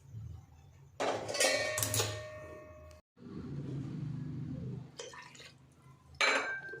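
Water is poured from a cup onto basmati rice in a pot for vegetable masala pulao, heard as close splashing pours in several short bursts separated by brief pauses.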